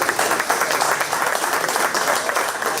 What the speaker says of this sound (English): Why don't we give these junior exhibitors a round of applause?